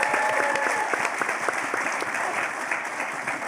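Audience applause fills a room at a film discussion event, dense continuous clapping with individual claps standing out, fairly close and fading slightly toward the end.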